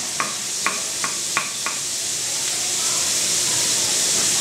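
Meat cooking in a pan for paella, a loud continuous sizzle and hiss with a few sharp spoon taps on the pan near the start.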